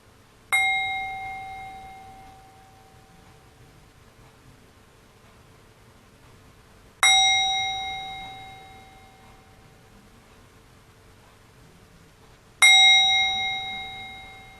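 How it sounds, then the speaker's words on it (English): Three bright bell strikes open a Science of Mind service, each ringing out clearly and decaying slowly over several seconds, spaced about six seconds apart against a quiet room. "Let's focus and begin with some beautiful bells."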